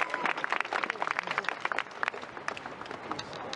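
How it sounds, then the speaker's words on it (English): Quiet, distant applause from an audience welcoming a guest speaker at a memorial event, a muffled patter of clapping heard faintly from afar. "Let's welcome him with a big round of applause."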